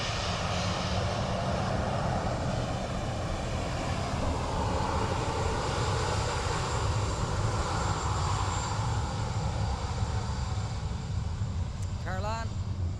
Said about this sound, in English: So A320 of British Airways next.